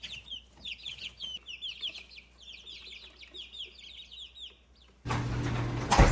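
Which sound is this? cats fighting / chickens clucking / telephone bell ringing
chickens clucking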